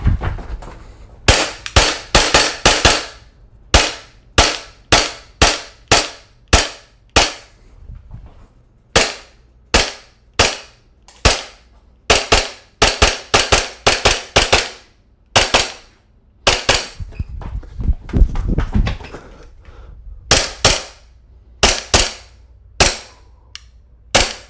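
Toy training pistols snap repeatedly during dry fire practice, a long series of sharp, loud clicks and pops in quick bursts and short pauses, close by with no talking.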